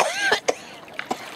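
An older woman coughs and clears her throat, a few short rough bursts close by on a boat trip on the Ganges at Assi Ghat in Varanasi.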